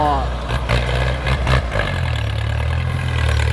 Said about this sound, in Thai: จะเห็นได้ว่ารถไถฟอร์ดนี่แข็งแกร่งมากพี่น้อง นี่เขาดัดแปลงเป็นรถคีบนะ